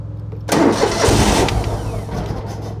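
Car engine cranking and catching after a brief quiet moment, then settling into a steady rough idle on choke, loud and close with no talk.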